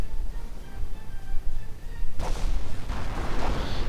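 Artillery fire in a World War II strategy game, a sudden heavy blast followed by rumbling booms and a sustained roar of further impacts, loud and dense over low battlefield noise.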